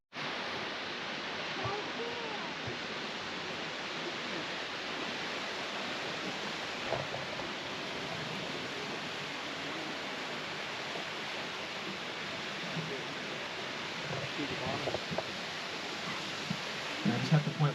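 Summer waterfalls fed by slowly melting snow pour in a steady broadband rush, heard from a nearby boat, constant and full with a few small knocks near the end.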